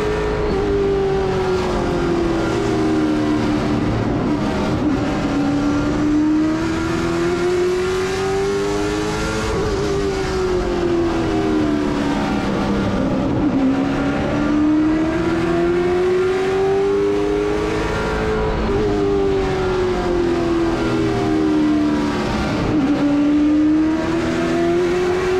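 Race car engine held at half throttle on a CARS Tour oval at New River All-American Speedway, a steady loud drone whose pitch rises and falls in slow waves along the straightaways, continuous for the whole stretch.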